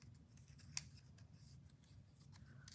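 Scissors snip through paper during a card-stamping craft session, a few faint close cuts with one sharper snip standing out over a quiet room hum, no talk.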